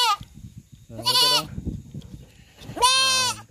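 A two-month-old goat bleats loudly and close by during castration, two long strained cries separated by rustling and handling noise.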